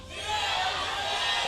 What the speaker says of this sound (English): Big cheer from the CJ fans in game number 2.